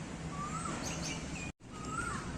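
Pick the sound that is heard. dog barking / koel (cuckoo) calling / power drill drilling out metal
koel (cuckoo) calling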